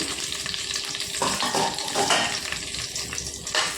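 Bottle gourd pieces and green chillies fry in a pan while being stirred, a constant sizzling hiss broken by scraping and clattering stirring strokes, close and fairly loud.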